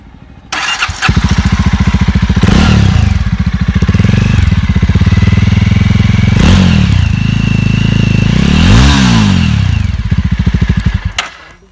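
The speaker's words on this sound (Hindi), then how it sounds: "फॉर एग्जांपल हम इंजन को शुरू करते हैं" A 2018 Jawa Classic motorcycle engine cranks and fires, then idles with a loud thumping beat and is blipped into several rising revs before settling, close and dominant with no talking.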